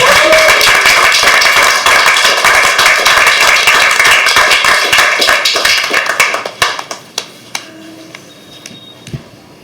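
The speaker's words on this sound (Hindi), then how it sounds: "Priyasi में तालियां बजाते रहिए." An audience at a live poetry open mic at The Habitat claps energetically and densely, then the applause thins out into scattered individual claps before fading.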